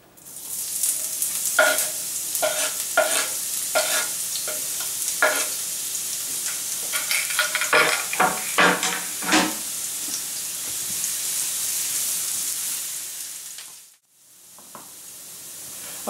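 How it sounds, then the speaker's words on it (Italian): Onion sautéing in a pot at the start of a risotto sizzles steadily and close, with occasional stirring scrapes and crackles over a continuous frying hiss, then a brief drop near the end before the sizzle resumes. "In una pentola mettiamo a soffriggere la cipolla."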